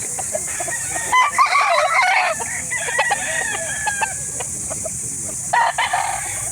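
Roosters crow and hens cluck at a poultry market in Calauan, Laguna, Philippines, where gamecocks are sold. Several loud, overlapping crows rise and fall nearby over steady market background noise.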